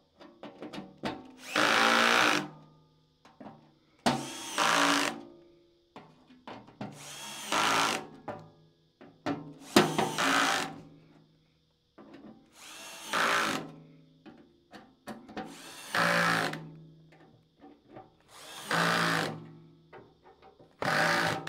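A power drill driver with a 12-setting torque clutch runs in eight or so short, loud bursts of whirring with brief pauses between them, close by and without talk.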